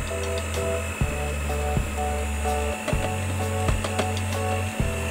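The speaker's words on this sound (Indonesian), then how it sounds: "turunkan kecepatan mixer menjadi kecepatan paling rendah, lalu masukkan jagung yang sudah kita haluskan tadi" An electric mixer at its lowest speed beats steamed corn cake batter, giving a steady motor whine with rhythmic pitch shifts and clunks about once a second as the beaters move through the bowl, close and loud.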